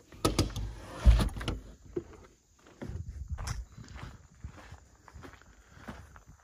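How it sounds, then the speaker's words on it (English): A door on a prefab modular home is pulled shut, giving a cluster of close knocks and a solid thump, followed by scattered footsteps and light shuffling. "Pull this door shut."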